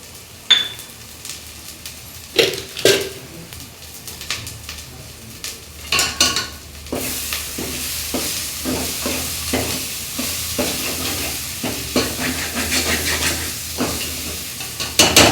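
Chili powder stirred into a frying pan for a mutton dish: a steady sizzle beneath repeated scraping and clinking strokes of a spatula, quieter at first, then busier and more rhythmic.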